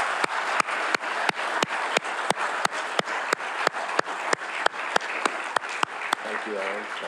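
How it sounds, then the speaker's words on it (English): A conference audience at a U.S. Naval War College strategy forum applauds panelists, a dense wash of clapping carried under a regular series of sharp, evenly spaced knocks, with a voice speaking briefly near the end. "will you join me in giving a round of applause to our"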